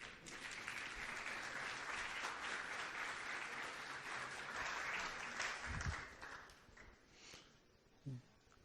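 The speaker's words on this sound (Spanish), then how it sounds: "Un aplauso para Carlos." An audience at a cybersecurity conference plenary claps for a speaker, dense and sustained at first, then thinning and tapering off toward the end, with a few louder thumps near the microphone.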